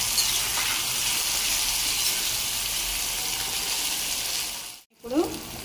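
Pumpkin pieces sizzling in a hot pan for a curry, a steady bright frying hiss that runs continuously, then cuts out abruptly near the end with a brief clatter.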